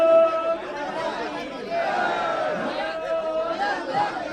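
Crowd chatter around a packed stage at a BJP induction event, a dense murmur of many overlapping voices, moderately loud and continuous, with some raised calls rising above the hubbub.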